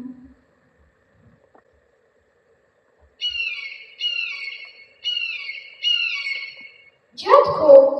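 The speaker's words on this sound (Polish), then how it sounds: "Biały orzeł, to już drugi raz dzisiaj." An eagle-cry sound effect in a school Independence Day play, played as four repeated shrill, bright calls about a second apart, then a harsher, louder squawk at the end, heard clearly over a quiet hall.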